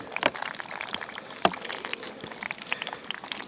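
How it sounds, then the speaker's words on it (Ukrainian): Water poured into a bee nucleus hive, a quiet liquid trickle with a few soft splashes running steadily throughout, faint and close with no talk. "Заключний етап наливаємо відводочку."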